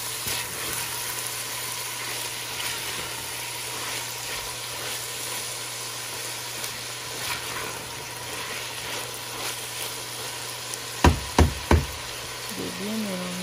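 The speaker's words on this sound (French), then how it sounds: "Je vais griller ça aussi." Food sizzles steadily in a pan as it is grilled over moderate heat, a faint continuous hiss near the mic, with three sharp knocks of a utensil on the pan near the end.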